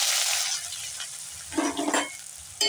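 Sliced onions drop into hot oil for a potato curry, hissing in a bright steady sizzle with a couple of louder stirring bursts near the end, close and with no voices.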